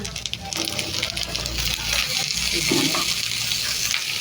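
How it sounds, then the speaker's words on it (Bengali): Ash gourd cooking in a pan: a steady, soft sizzle with some stirring, continuous through the moment, with a voice talking over it. "চাল কুমড়া রান্না করছি"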